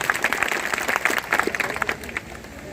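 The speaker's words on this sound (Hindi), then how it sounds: "साथियों जोरदार तालियां हो जाए" Audience applause at a corporate award event, a dense, steady round of clapping from a sizable crowd, loud and continuous, easing slightly toward the end.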